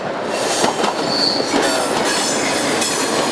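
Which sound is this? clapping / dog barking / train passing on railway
train passing on railway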